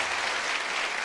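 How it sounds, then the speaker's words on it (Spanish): Studio audience applause for a couple on a Colombian television talk show, a dense, steady wash of clapping that fills the whole short moment at an even, loud level. "Un aplauso para esta pareja tan bella."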